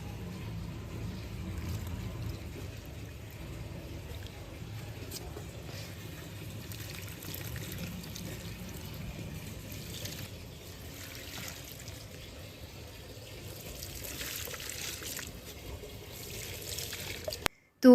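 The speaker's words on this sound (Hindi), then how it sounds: "यहाँ पे जो है मैं फूलों में पानी डालने के लिए आ गई हूँ" Water poured onto flowers in a home garden in the morning, a steady low wash of splashing and trickling that runs on continuously and evenly throughout, with no voices.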